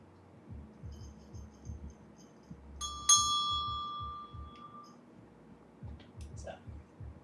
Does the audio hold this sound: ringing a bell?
yes